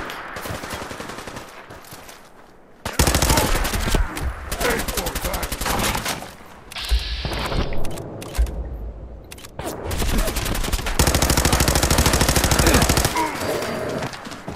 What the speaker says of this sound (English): Shoot blindly into where we think he is.